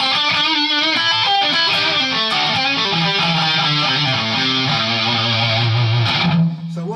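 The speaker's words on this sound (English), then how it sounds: "kick in for a real raunchy distortion boost" An electric guitar runs through a Vox Tonelab ST into a Vox AC4TVH amp, with the expression pedal kicked down for a raunchy distortion boost; thick sustained chords ring out loud and continuous before fading at the end.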